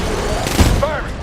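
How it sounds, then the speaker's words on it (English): Heavy mech weapons in Titanfall 2 open fire in a short booming volley layered over dense battle noise, with a voice speaking under the blasts. "Target locked. Firing."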